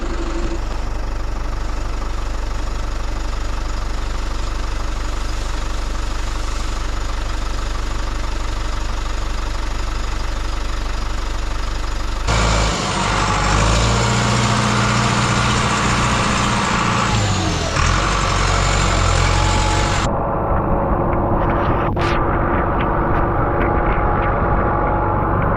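A farm loader engine carrying a hay bale idles with a steady low rumble, then revs and drives off, its sound rougher and louder near the middle before cutting sharply toward the end. Rain is falling on the farm.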